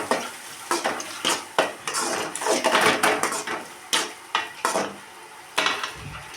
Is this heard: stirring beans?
yes